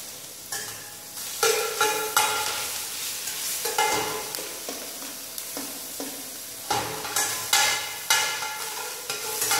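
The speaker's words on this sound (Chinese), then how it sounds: "小火下去煸去炒，把辛香料的香气炒出来。" Aromatics stir-fried in oil over low heat, with a soft steady sizzle broken by repeated scraping strokes of a spatula in the pan, close and without talk.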